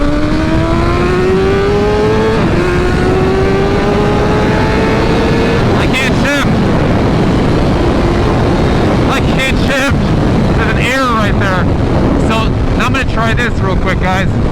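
A 2023 BMW S1000RR motorcycle with a shifting fault accelerating hard at speed, the high engine whine climbing through the revs over heavy wind rush, with a few rough bursts and pops near the close.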